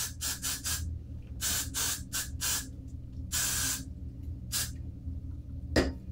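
Hairspray mists onto hair styled into a mohawk in a series of short, sharp hissing bursts, some quick and clustered and one longer, close and fairly loud over a low background hum.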